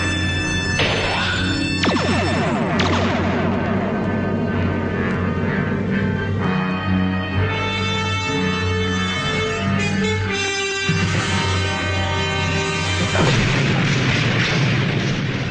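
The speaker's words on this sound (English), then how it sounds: "Photon torpedoes, widest possible spread. At this range, the blast will impact us as well." A photon torpedo blast in a Star Trek film scene, a loud, sustained booming roar with layered tonal effects and shifting resonances filling the whole stretch, with no talking.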